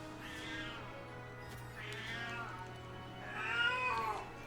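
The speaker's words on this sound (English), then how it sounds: "Not now, Miss Kitty" A cat meows three times in a row, each call drawn out and rising then falling, moderately close over a low steady hum.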